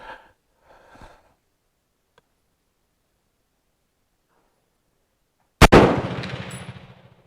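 A single loud, close firearm gunshot cracks out after a quiet stretch with a couple of faint bumps, followed by a decaying rumble and echo.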